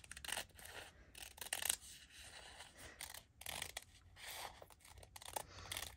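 Scissors cut silk velvet fabric in several quiet, close snips and rustling slides, irregular bursts separated by short pauses.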